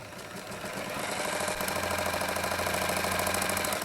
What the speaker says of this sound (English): stitch a couple more stitches, and then go to the longest stitch length